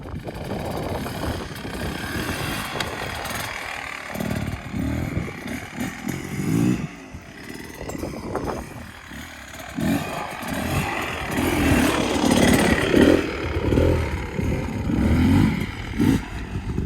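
Dirt bike engine during standing slalom riding practice, revving and easing off repeatedly through tight turns, with a buzzing mid-pitched tone that rises and falls, moderately close, no talking.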